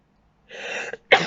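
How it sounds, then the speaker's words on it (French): A woman coughs twice up close, first a longer, rough hacking cough, then after a short pause a sharper, louder burst, with no talking around it. "Je suis pas coupée parce que je tousse"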